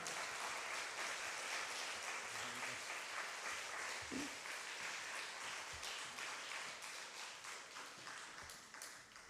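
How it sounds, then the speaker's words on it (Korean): A church congregation at a Wednesday evening service applauds to welcome a visiting pastor, a sustained, fairly distant patter of many hands that slowly fades toward the end. "박수로 환영하겠습니다."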